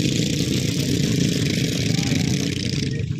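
Several Royal Enfield Bullet motorcycles ride together in a circle at an Indian Army stunt display, their engines giving a close, loud, continuous thumping drone with no pause.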